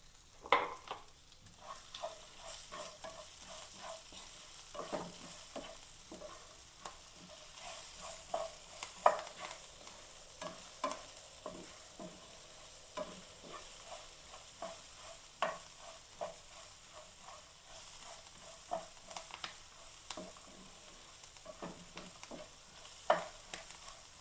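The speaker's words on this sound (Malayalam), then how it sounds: "ഉള്ളിയാണ് ഉള്ളി ഇട്ട് കൊടുക്കാം രണ്ട് രണ്ട് കറിവേപ്പില കൂടി കിടക്കട്ടെ" Onions and a few curry leaves fry quietly in a pan, with a soft continuous sizzle and frequent small clicks and scrapes of stirring throughout.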